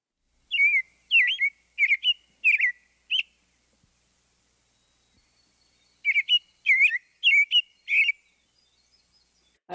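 Two bursts of bright, whistled robin song, each a run of four or five clear phrases, separated by a few seconds of near silence.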